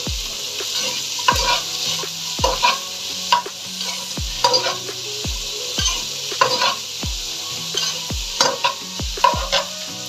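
Sliced onions stir-frying in a pan over high heat, a steady loud sizzle broken by sharp, regular scrapes and knocks of the spatula against the pan, with no talking.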